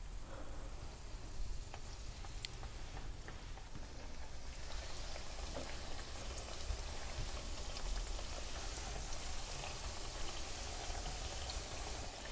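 Karakuş dessert dough fries in hot oil, giving a steady, faint bubbling sizzle that holds throughout with small pops, with no talk.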